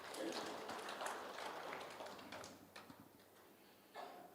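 Congregation applause in a church service, scattered clapping that starts busy and slowly tapers off, faint and somewhat distant, with a final small flurry near the end.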